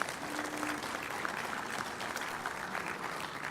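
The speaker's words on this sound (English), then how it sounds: "I think we need to give him a round of applause and say thank you." Audience applause at a community meeting on the Last Chance Grade Improvement Project: soft, continuous clapping from a room of people, fairly faint and diffuse, with no speech.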